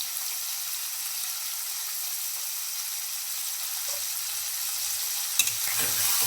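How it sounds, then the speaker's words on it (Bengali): Fresh fish frying lightly in oil in a pan, a steady, even sizzle and hiss heard up close throughout, with a brief clatter and stir near the end and no talking. "খুব কড়া করে ভাজবো না মাছগুলো খুব টাটকা ছিল একটু হালকা ভেজে"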